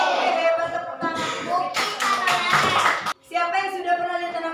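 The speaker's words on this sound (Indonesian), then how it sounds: "hebat, tepuk tangan." Children in a classroom break into a short burst of clapping in the middle, with their voices chanting before and after it.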